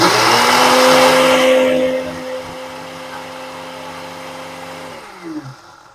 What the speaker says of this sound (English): Now let's try to blend it.